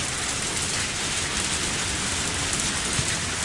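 Steady heavy rain falls in the video game Lucky Dog 1 + Bad Egg, a dense even hiss of drops filling the scene without pause and with no voices.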